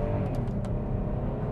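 A Porsche Cayenne V6 under hard acceleration, a loud, steady engine roar heard from the cabin, with a few faint clicks over it and no talk.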